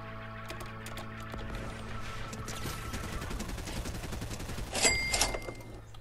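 Rapid SMG fire in Fortnite, a dense stream of close, steady gunshots that builds and ends in a louder burst of shots near the end, with no talking.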